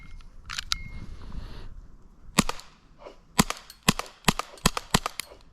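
Airsoft gun firing roughly eight sharp, snappy shots close by, the first pair spaced apart and the rest coming in a quick irregular string, with faint handling clatter early on.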